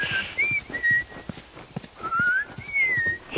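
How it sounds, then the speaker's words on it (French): A person whistles a lively, wavering tune in a few short phrases, close and clear, with soft thumps and footstep-like knocks underneath. "Hé, hey, je siffle."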